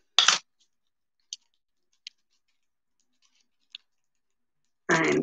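A handful of small, sharp clicks and snips spaced a second or so apart in near silence, bracketed by brief handling rustles at the start and end.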